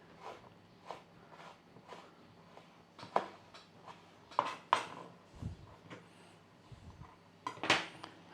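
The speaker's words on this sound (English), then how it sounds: "we need to just julienne some of this zest up" A knife julienning orange zest on a cutting board makes sparse, irregular close taps and light clicks, a few sharper knocks among them, quiet and unhurried with no talking.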